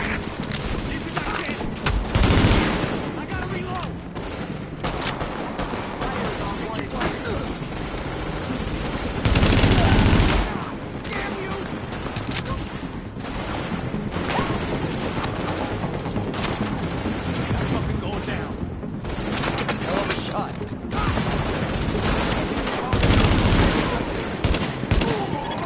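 Gunfire in the video game The Division comes as dense, continuous bursts of automatic fire and booms, loud and sustained throughout, with game voice lines heard faintly in the mix.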